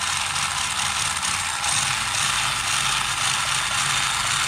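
Arrma Grom RC car drivetrain running on the bench after a differential refresh, giving a steady, close whirring and ratcheting gear noise that holds constant and unbroken without any talk.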